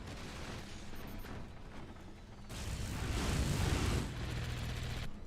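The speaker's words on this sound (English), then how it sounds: "Trading cannon shots." Cannon fire is traded in the video game Forts as a dense, continuous rumble of booms and blasts, swelling louder midway and holding steady, with no clear separate shots.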